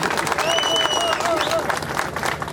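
Crowd applause at an Ambedkar Jayanthi celebration in the Mandamarri area: a steady, dense wash of clapping with thin whistles over it, with voices mixed in throughout.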